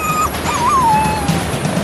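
A badly injured spaniel gives a single thin, wavering whimper that slides up and then tails off, close and fairly clear over a low background rumble.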